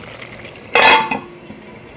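A metal lid clanks down onto a pan of bottle gourd and prawns, one short clattering hit followed by a lighter settling clink, close and alone.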